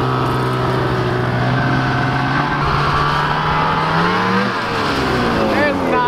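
A snowmobile engine revs and climbs in pitch as the machine attempts a wheelie up a hill over thin snow and patches of grass, loud and close throughout, with people talking over it.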